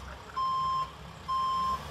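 An Amazon delivery truck reversing sounds two loud, steady electronic beeps, each about half a second long with a pause between them, over a low rumble of outdoor background noise.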